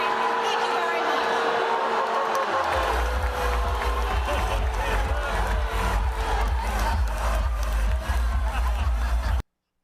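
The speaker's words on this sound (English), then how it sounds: "She literally got booed off the stage" A crowd at a political rally boos a Secretary of State candidate off the stage, loud sustained jeering and shouting from many voices, with a deep rumble joining partway through.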